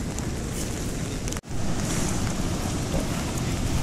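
Light drizzle falling by the seaside on the Konkan coast, a steady broadband hiss with wind and surf noise, briefly cutting out for an instant midway.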